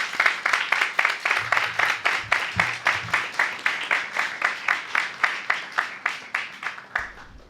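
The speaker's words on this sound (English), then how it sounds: "Please give them a round of applause." Audience at a Caribbean literature event applauding the writers, a steady run of regular rhythmic group clapping at a moderate level, with a brief low hum early on.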